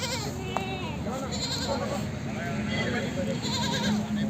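At an outdoor goat market, a Barbari cross goat bleats briefly amid busy crowd chatter, with people talking close by over the whole stretch.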